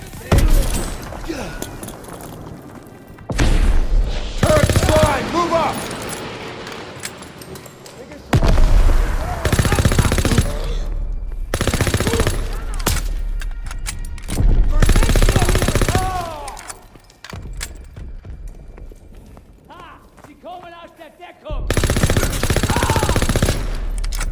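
Machine gun fire in a D-Day video game battle, loud sustained bursts of rapid automatic shots in several long stretches, with shouting voices and explosions mixed in.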